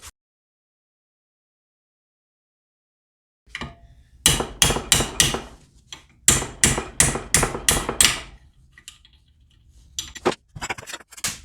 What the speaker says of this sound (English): I can just put this in a vise and just hammer on this shaft and separate the 2 pieces.